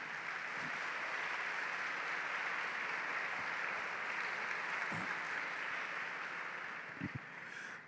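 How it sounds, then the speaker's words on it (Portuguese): A church congregation applauds during a Portuguese-language service, a steady, sustained wash of clapping heard at a distance and fairly faint, with a few louder knocks standing out. "vamos aplaudir a palavra do Senhor"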